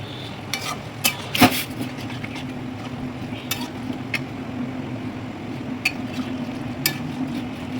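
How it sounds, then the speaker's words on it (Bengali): Boiled chicken is stirred in a pan with spices while stock is added a little at a time: a low simmering sizzle under sharp, scattered scrapes and clinks of the spoon, close by, with no talk. "মোটামুটি অল্প অল্প করে দিয়ে চিকেনটাকে নাড়িয়ে রাখতে হবে"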